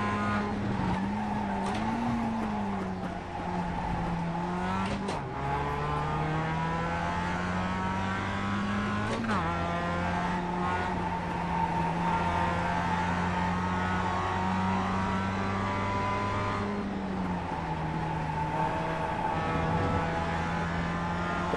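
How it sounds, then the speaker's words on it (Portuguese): A Mazda MX-5 Cup race car in iRacing at Laguna Seca drones steadily on the engine, with pitch dropping sharply under several hard braking points and then climbing back as the car pulls away again. It is loud and continuous, with no talk. "O trabalho de freio desse Mazda é fantástico."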